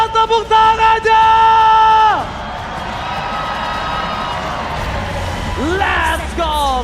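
A packed Velodrome crowd at an EVOS Glory versus Fnatic Onic esports playoff match roars and cheers in a broad, sustained wash after an announcer's loud, drawn-out shouting, with more yelling returning near the end.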